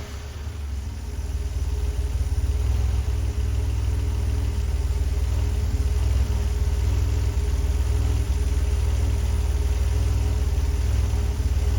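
A DeLorean engine with Bosch K-Jetronic fuel injection settles into a steady, even idle after a throttle tap, a continuous low rumble held close and loud with no talking.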